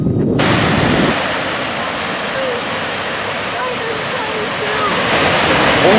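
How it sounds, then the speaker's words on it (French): The 26-metre Gibbon Falls in Yellowstone National Park gives off a loud, steady roar of rushing water that stays constant and close throughout. "cette cascade de 26 mètres de haut, Gibbon Fall"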